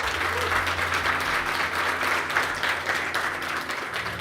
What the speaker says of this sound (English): Let's give him a big round of applause and welcome him.